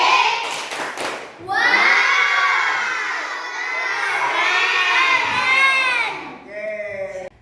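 A classroom of children doing a group clap-and-cheer together, shouting in a loud sustained chorus for several seconds before trailing off into scattered voices.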